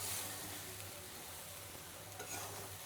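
Coconut ladoo mixture is stirred in a pan on the stove, giving a steady, faint sizzle and scraping with a brief clatter of the spoon near the end.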